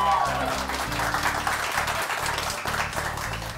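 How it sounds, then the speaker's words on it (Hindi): Studio audience applause on a morning television show, a steady wash of clapping running under background music for a few seconds. "जीत के समय के लिए बहुत सारी तालियां"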